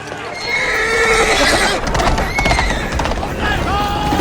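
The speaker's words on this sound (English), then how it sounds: "Game of Thrones loves throwing a random white horse into the mix." A white horse neighs loudly several times during a battle scene from Game of Thrones, with shrill whinnies over clattering hooves and chaotic battle noise.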